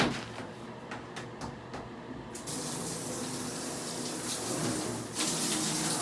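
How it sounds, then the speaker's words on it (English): A shower head sprays water in a bathroom, a steady broadband hiss that swells louder partway through after a few soft knocks, with no talking. "I will use the blaster on the shower head and clean myself"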